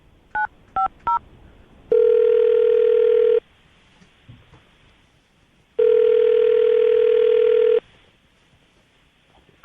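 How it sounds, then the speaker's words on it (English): A telephone is dialed with three quick keypad beeps, followed by two long, loud ringing tones separated by a pause, with no talking. "I'm going to dial the phone number"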